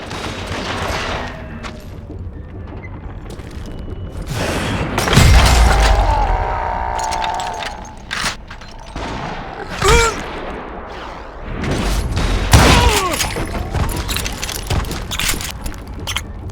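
Bursts of gunfire ring out in a Western-style gunfight set around an old mine with gunpowder and dynamite lying about. Rapid volleys and heavy booms mix with clattering and whizzing effects, loud and dense, with no voices.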